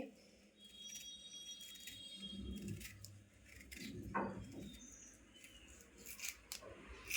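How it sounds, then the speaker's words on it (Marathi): A pomegranate is cut with a knife for a healthy homemade juice, giving soft crunching and slicing scrapes with brief clicks, close and faint, with no talk. "आता मी डाळिंब पण कापून घेते"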